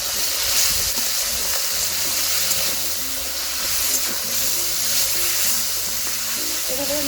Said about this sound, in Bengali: এভাবে আমি সব মাছগুলো এভাবে ঝুড়ি ভাজা করে নিচ্ছি।